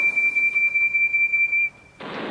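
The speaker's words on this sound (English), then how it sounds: "He rolled up behind Arry and Bert, took an extra big puff, and blew as loudly as he could." Percy the tank engine gives one loud, shrill, sustained steam whistle blast lasting under two seconds. After a short gap comes a burst of hissing steam.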